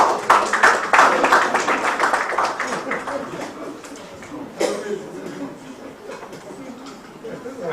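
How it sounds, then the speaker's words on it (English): Audience applause at an 82nd birthday celebration and book presentation for an emeritus professor, a dense, steady clapping that swells early then thins into lighter scattered claps, with voices mixed in. "Can we clap for him properly now? Let's keep clapping."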